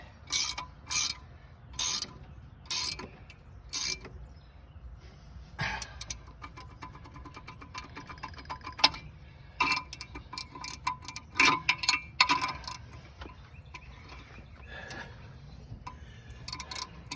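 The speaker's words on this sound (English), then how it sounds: "We'll just tighten with the wrench for now." A wrench tightens a fitting on a car, producing bursts of crisp ratcheting clicks, first in a few evenly spaced groups, then in scattered irregular runs of close metallic ticks.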